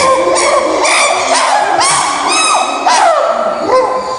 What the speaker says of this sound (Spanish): Esto es una vocalización que ellos utilizan para comunicarse con largas distancias.